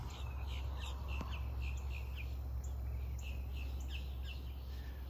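Birds chirp on a biodynamic natural farm: a steady run of small, faint, repeated tweets over a constant bed of insect and cricket buzz and low outdoor hum, with no one talking.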